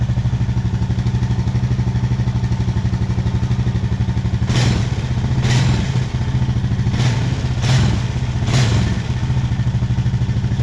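A Honda motorcycle engine with Keihin fuel injection runs steadily and loudly up close, its rapid low throb joined by several sharp metallic clacks and blips midway through.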